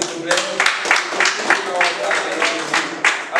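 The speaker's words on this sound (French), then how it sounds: "Applaudissez frère, s'il vous plaît." A church congregation claps at a preacher's request, distinct rhythmic hand claps landing roughly every third of a second, close and fairly loud, with voices audible underneath.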